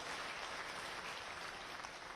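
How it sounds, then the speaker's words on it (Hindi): An audience at a farmers' rally claps loudly and continuously, a dense, even wash of applause filling the whole short stretch without letup. "इसलिए मैं चाहता हूं कि जोरदार तालियों से देश के प्रधानमंत्री के समर्थन में खड़े होकर के हम आवाज को बुलंद करें।"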